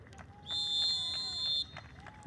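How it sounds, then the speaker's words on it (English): A referee's long halftime whistle blast at a soccer friendly between Seattle Sounders FC and Portland Timbers, one steady shrill tone lasting about a second over distant crowd noise. "And there's the halftime whistle."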